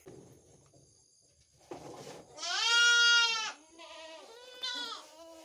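A dairy goat bleats loudly nearby, one long wavering call followed by a shorter one, after some faint shuffling sounds.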